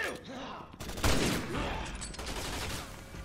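Rapid gunfire bursts in the video game Resident Evil 6, loud and dense, mixed with a shouting voice and a busy game background.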